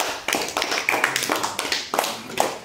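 Young children in a primary classroom clap together for a classmate, a brisk run of uneven group claps that rises and falls in several bursts, fairly close and lively, with no talking over it.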